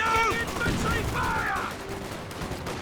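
Heavy gunfire from Company of Heroes 2 combat pouring into an MG34 position, a dense, continuous crackle of shots over a battle din, with a voice talking in between the bursts.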